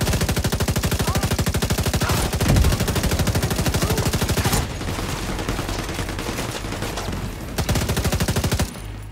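A turret machine gun in The Division 2 fires long sustained rapid bursts, loud and close, with a brief pause midway before the steady hammering resumes.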